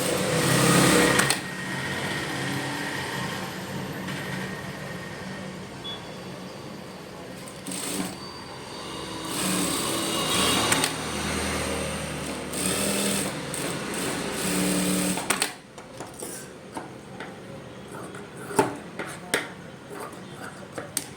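A sewing machine stitches the back and front pieces of a blouse together at a tailoring table, its steady close-up buzzing running in long bursts with short pauses while a voice talks over part of it.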